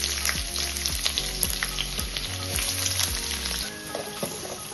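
Two medium onions, sliced, frying in a large spoonful of oil in a pan for a potato and drumstick curry, a steady close sizzle running throughout with faint stirring clinks, no voices.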